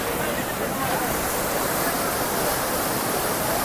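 Vibhuti Falls in Uttara Kannada roars as a steady, loud wash of rushing water, a continuous broadband torrent close by with no pauses.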